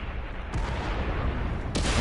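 Tank cannon fire in World of Tanks on PS4, two loud booming shots about a second apart, each with a sharp broadband onset over a steady rumbling background.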